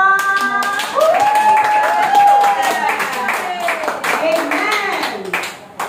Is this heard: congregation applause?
yes